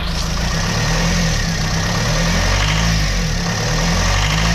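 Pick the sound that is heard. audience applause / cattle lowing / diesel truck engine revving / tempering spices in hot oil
diesel truck engine revving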